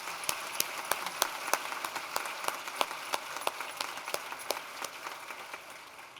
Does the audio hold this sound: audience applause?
yes